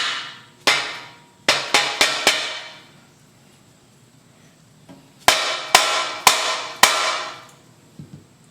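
A hammer drives a steel punch against a motorcycle rear wheel bolt, giving two clusters of sharp metallic strikes, about five then five more, close and ringing, with a quiet gap between.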